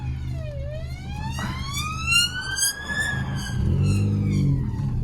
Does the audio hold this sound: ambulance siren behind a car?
yes